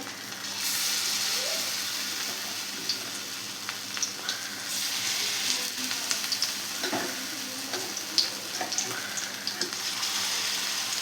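Pumpkin flowers fry in a pan at home with a steady, close sizzling hiss that runs throughout, broken by small pops and soft scrapes.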